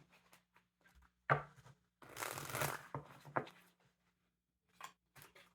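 Tarot cards are shuffled in a few quick bursts, with one longer riffling rush in the middle and scattered soft card taps around it, close and fairly quiet.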